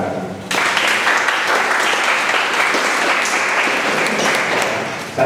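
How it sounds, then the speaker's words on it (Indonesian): A room full of university students applauds during a work-experience sharing presentation; the clapping starts abruptly, stays loud and even for several seconds, then tapers just before the end. "Tepuk tangan."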